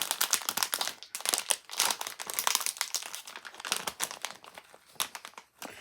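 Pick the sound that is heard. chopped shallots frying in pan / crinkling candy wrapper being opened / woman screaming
crinkling candy wrapper being opened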